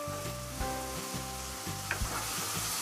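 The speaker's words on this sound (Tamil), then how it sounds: "தக்காளி வெங்காயம் நல்லா வதங்கியிருக்கு" Chopped tomatoes and onions sizzle steadily as they sauté in a pan for ridge gourd kootu, a continuous close crackle with a few faint clinks and a low steady hum underneath.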